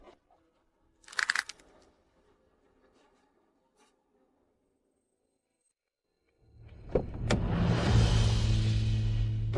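A car door or trunk is handled with a sharp clatter early on, then after a pause an engine starts and rumbles steadily close by as people get into the car.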